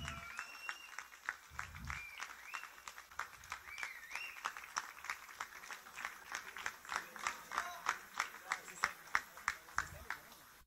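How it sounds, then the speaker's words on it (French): Audience applause at a French Rainbow Six Siege esports cup event, with scattered claps growing into a rhythmic, steady clapping through the crowd, while a voice talks over it. "Allez, on peut les applaudir."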